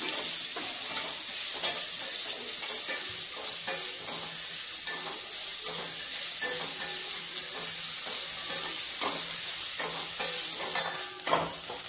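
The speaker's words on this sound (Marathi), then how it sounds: "आता कांदा छान आपण आता नरम होईपर्यंत परतून घेऊया" Chopped onion for Maharashtrian kanda pohe sautés in oil until soft, a steady close sizzle running throughout with repeated light scrapes and taps of a spatula stirring the pan, no voices.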